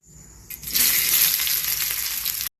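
Grated coconut and onion roasting in a pan, a hiss that starts abruptly and swells into a bright, steady sizzle, then cuts off sharply, close with no speech.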